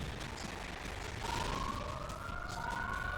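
A rising, wailing siren tone sweeps upward within video game music from 1080 Avalanche, sounding over a dense, noisy musical backdrop at moderate level.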